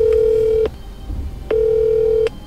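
A telephone call rings out on the line: a steady, loud ringback tone sounds for well over half a second, pauses briefly, then sounds again for a similar length.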